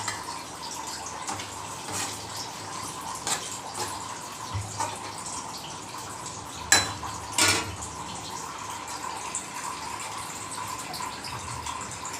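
Meal maker soya chunks boil in a kovakkai gravy, making a steady bubbling simmer close by, with two sharp metallic clinks partway through.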